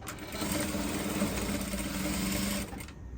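A sewing machine runs continuously as it stitches lace fabric on an A-line dress, producing a steady, close mechanical whir with a rapid needle rhythm that stops abruptly near the end.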